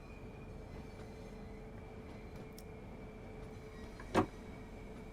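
A train rolling across a bridge in the Train Sim World 2 game on a snowy Southeastern route: a steady low rumble with a faint whining tone, and one sharp clack near the end.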